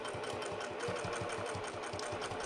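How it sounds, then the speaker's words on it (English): A sewing machine stitches a fabric seam on a drink cozy project, a steady close mechanical whir with fast even needle thumps running throughout at moderate volume. "So we're just sewing along."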